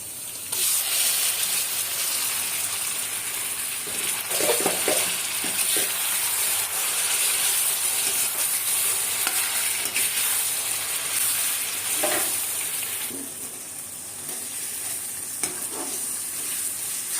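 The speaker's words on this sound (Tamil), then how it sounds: "நல்லா டீப்பாக வதங்கின உடனே நம்ம கலந்து வச்சிருக்கிற சிக்கனை அதில் போட்டுக்கலாம்" Chicken mixed with masala goes into a pan of deeply sautéed onions for Tamil-style masala chicken, giving a steady loud sizzle of frying in oil with scraping stir strokes throughout, no talking.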